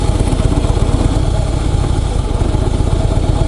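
A Harley-Davidson CVO Softail motorcycle engine loud and close in a parking lot, its deep lumpy idle pulsing in an even rapid rhythm throughout.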